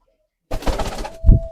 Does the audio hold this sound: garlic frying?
no